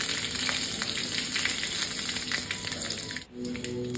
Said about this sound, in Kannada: ಈಗ ನಾನು ಅದಕ್ಕೆ ಕರ್ಬೇವಿನ ಸೊಪ್ಪು ಹಾಕ್ಕೊಳ್ತಿದ್ದೀನಿ